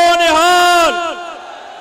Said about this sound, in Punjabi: ਜਿਹੜੇ ਸਹਿਮਤ ਨੇ ਉਹ ਜਕਾਰੇ ਦੇ ਰੂਪ ਦੇ ਵਿੱਚ ਜਵਾਬ ਦੇਣ